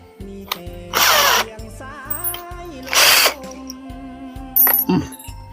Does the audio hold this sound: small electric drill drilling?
yes